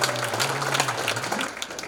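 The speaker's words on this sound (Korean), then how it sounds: "네, 다시 한번 큰 박수 부탁드리겠습니다." Audience applause rings out at a public library's 20th anniversary ceremony in Gyeyang, a dense, steady clapping from a crowd that holds for the whole short stretch.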